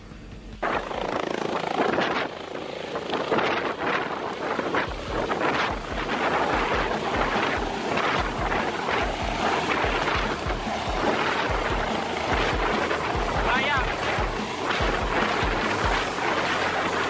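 A helicopter carrying a mayor lifts off beside a guest tent, its rotor wash battering the canvas; loud, steady rotor roar with pulsing beats and heavy wind buffeting on the microphone throughout, no voices.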